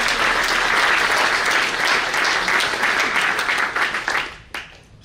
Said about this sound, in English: Let's also applaud all of the other schools and those who helped us in the nomination.